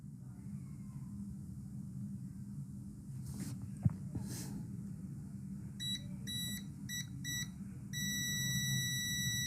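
A multimeter's continuity buzzer sounds while a phone coil is tested during mobile repair, giving a string of short, faint electronic beeps and then a steady held tone near the end, over low background hum.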